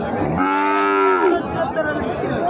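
A bull at a cattle market for Sahiwal and Fleckvieh breeds gives one long, loud, close moo lasting about a second, followed by quieter market ambience with no talking.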